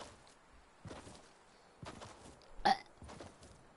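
A few short, quiet burps from a person playing with a friend, scattered abrupt bursts over a faint background with one sharper, louder burp near the end.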